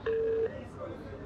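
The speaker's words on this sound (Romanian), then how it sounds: "nibagiye guhamagara papa Sava" A telephone number is dialed, giving one steady tone lasting about half a second, up close, followed by quiet background hiss and a faint blip.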